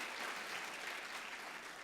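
Audience clapping fills the hall at a literary festival storytelling session, a dense, steady wash of many hands throughout, with no one speaking over it.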